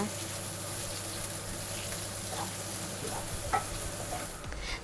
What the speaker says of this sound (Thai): ผัดหอมหัวใหญ่ให้เหลืองนะคะ